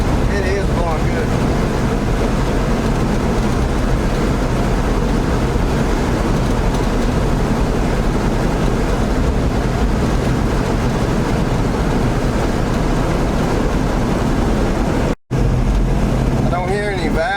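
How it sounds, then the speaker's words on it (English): A 1979 Chevy G20 Custom van engine runs smoothly with the air conditioning on, a steady dense broadband rumble that holds level for the whole stretch, with a momentary dropout near the end. "The engine sounds smooth."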